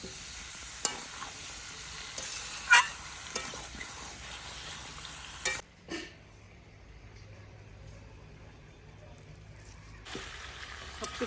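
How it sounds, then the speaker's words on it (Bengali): Masala-coated potatoes go into a pan for village-style chicken curry, giving a faint sizzle with scattered stirring clunks and clicks, a quieter spell in the middle, then the sizzle returning. "এই যে আলুগুলো একটু মাখিয়ে নিয়েছি মশলা দিয়ে। এখন এগুলো ছেড়ে দিলাম।"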